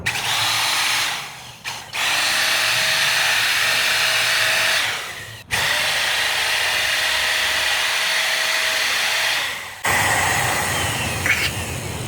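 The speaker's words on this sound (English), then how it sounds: "try to drill those holes into the concrete with that bit that was really dull" A corded power drill fitted with a dull bit grinds against concrete while drilling pilot holes, a loud steady whine in three long bursts with brief pauses between them.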